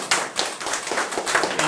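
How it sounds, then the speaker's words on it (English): An audience at a labor-themed talk in Atlanta breaks into applause, a dense, close patter of many hands clapping steadily for a couple of seconds. "you clap for"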